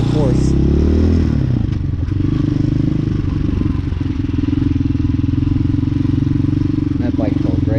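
A Hawk 250cc motorcycle runs close and loud throughout, a steady low engine drone that shifts pitch early on as the rider moves off, with scattered clatter over the top.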